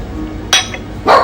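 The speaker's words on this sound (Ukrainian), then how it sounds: "Посуда вже миється" Two short bursts of clattering dishes being washed, a sharp clink then a fuller rattle of plates, close by with a quiet pause between.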